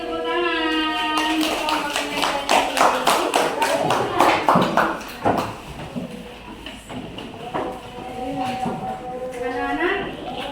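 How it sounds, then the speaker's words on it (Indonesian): Classroom clapping breaking out after students finish speaking, a few seconds of quick uneven claps from a small group, fading out as voices carry on. "Terima kasih, tepuk tangan."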